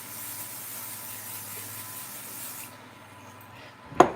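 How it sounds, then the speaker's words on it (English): A steady aerosol spray hisses for a few seconds onto the back of a stencil, then stops, followed by a sharp knock. "we're just going to spray the back of our stencil"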